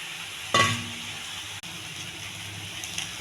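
Ivy gourd (dondakaya) pieces cooking in a pan with chili powder and turmeric, a soft steady sizzle after a sharp clatter of the vegetables or a utensil hitting the pan, close and low.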